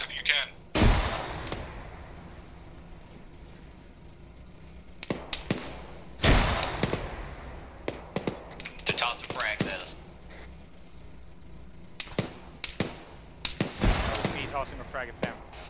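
Frag grenades in ArmA 3 go off in a few sharp, heavy bursts, mixed with scattered gunshots and crackling fire, distant to mid-range, with quiet gaps between them.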